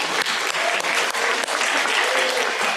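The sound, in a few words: applause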